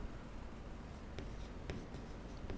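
Chalk or marker writing on a board while solving a class 9 maths problem on lines and angles: faint, continuous scratchy strokes with a few sharper taps, heard quietly throughout.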